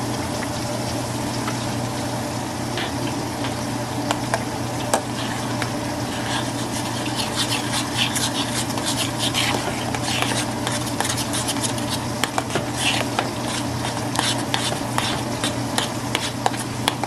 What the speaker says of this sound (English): I'm gonna go ahead and let those fry up